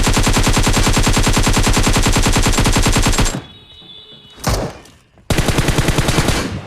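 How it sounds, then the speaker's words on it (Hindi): M4 rifle fire in PUBG Mobile: a loud, rapid automatic burst hammers for a few seconds, breaks off briefly with a single shot, then resumes in another fast stream. "तो M4 से इसको मार दिया"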